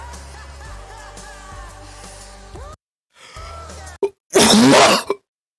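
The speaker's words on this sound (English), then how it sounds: "That was mostly a cough and a laugh." A single loud, close cough bursts out after music and a short pause, harsh and breathy, lasting under a second before cutting off.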